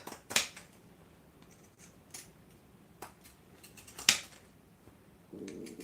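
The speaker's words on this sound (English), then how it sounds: "So let's get our pinking shears and quickly pink just the" Pinking shears snip along the curves of fabric for a sewn side pouch, giving a few sharp, isolated crunching cuts spaced seconds apart against a quiet background, close and fairly faint overall.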